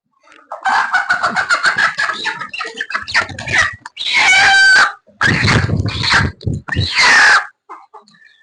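A sick laying hen with eyes closed from the cold clucks in close, loud bursts, with brief pauses between calls and a human voice occasionally talking.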